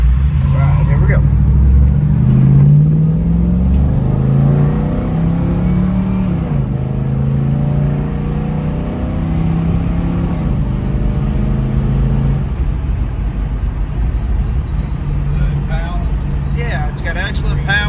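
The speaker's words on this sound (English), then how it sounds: "Got excellent power, shifts through all the gears the right way." A 1970 Dodge Challenger R/T pulls hard through its gears on a drive, engine note climbing and dropping with each shift, loud and close, with someone talking over it.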